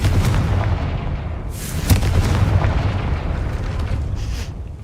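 A Confringo fire spell blasts a gate in the game Hogwarts Legacy, a rumbling explosive roar with several sharp bursts and crackling impacts layered over a steady low boom.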